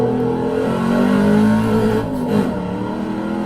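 A 1995 Ford SVT Cobra R V8 at full throttle on the Nürburgring Nordschleife tourist track, a loud, steady, high-revving engine drone heard from close inside the car with a brief dip near the end.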